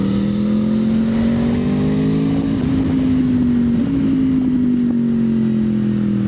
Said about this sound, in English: How freaking good does this bike sound?